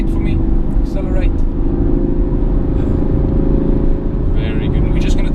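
A car accelerates through a corner on a driving course, its engine rumbling steadily up close under the road and wind noise, with brief voices from an instructor and driver.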